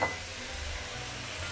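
About a pound of salted wild game meat sizzles in a hot pan as it browns, a close, steady frying hiss with soft crackle, no voices.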